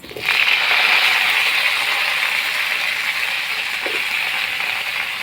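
Pieces of mango hit hot oil tempered with fennel seeds and a chili, giving a loud, steady sizzle that holds for several seconds with no one talking.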